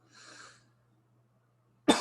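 A single sharp cough bursts in at the end of a short recording made during a talk on a California data privacy proposition, loud and close, after a faint breathy sound and a long quiet pause.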